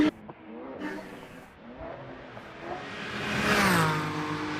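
Race cars at open throttle on the Road America circuit, a BMW among them, an engine note climbing and swelling louder as a car passes close, with steady mechanical whir throughout.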